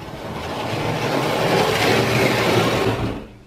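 Hornby Dublo model tank engine running on track at a higher speed, a close whirring motor hum with light rail rumble that swells, holds steady, then fades away at the end, with no talk.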